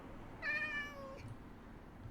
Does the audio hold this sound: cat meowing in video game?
yes